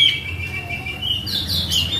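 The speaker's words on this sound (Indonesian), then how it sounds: "Ini nuri red lori mas ya." A red lory parrot kept at a bird market gives shrill, high squawking calls over a steady murmur of background noise, close and fairly loud, growing more intense toward the end.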